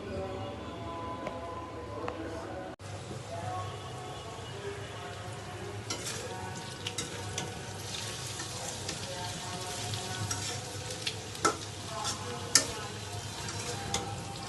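Dried fish stir-fried with onions in oil, a steady low sizzle with intermittent spatula scrapes and taps, a few sharper clicks toward the end.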